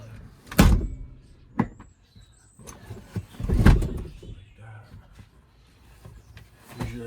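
A second-row seat in a Dodge Grand Caravan minivan folds down into the floor with a few scattered thumps and clunks, two of them heavier, amid quiet shuffling inside the vehicle.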